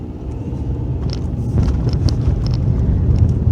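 A moving bus gives off a loud, continuous low rumble that swells after the first second, with faint scattered rattles and clicks over the road noise.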